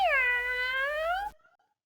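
A single cat meow, voiced by a person imitating a cat in a children's grammar lesson: one clear, close, rising-and-falling tonal call lasting just over a second, then silence.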